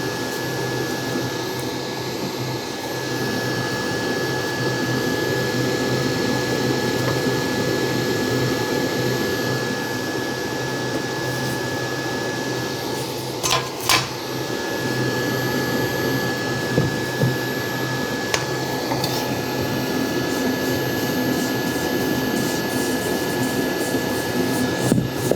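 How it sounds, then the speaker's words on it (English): A Zacme 7.4 quart stand mixer running steadily, its motor giving a continuous loud whirring hum with a faint whine, with a couple of brief knocks partway through. "Yeah, this mixer's not even thinking about this."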